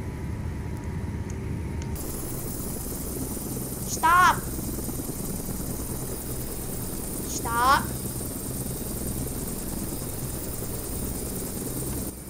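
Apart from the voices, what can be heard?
helicopter engine and rotor in Flight Simulator X video game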